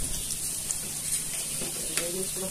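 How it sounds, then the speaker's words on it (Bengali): Chopped onion and green chili with turmeric frying in a pan for hilsa fish with sweet pumpkin, giving a steady low sizzle with a few soft stirring clinks, close and fairly quiet throughout. "প্রথমে পেঁয়াজ এবং কাঁচামরিচ কুচি করে সেটাকে লাল করে ভেজে নিচ্ছি"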